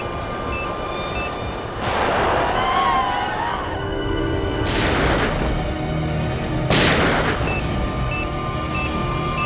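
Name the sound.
gunshots fired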